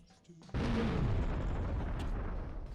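Explosions in The Thing video game burst in as a sudden loud boom, then a dense rumbling roar that holds for a couple of seconds before thinning slightly.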